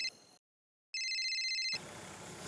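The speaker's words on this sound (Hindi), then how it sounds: "फोन आया।" A telephone rings in a home, a bright electronic tone heard in short bursts separated by silence, followed by a low hiss of background noise.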